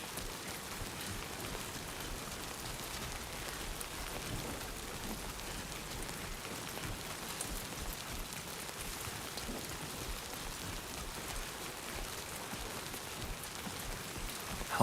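Steady rain falling in the video game Death Stranding 2, a continuous even hiss of drops on surfaces with no pauses, moderately quiet and alone throughout.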